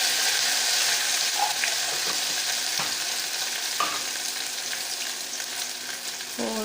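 Taro root (arbi) fries in hot oil with ajwain and hing, a continuous close sizzle with a few light spoon taps and scrapes from stirring.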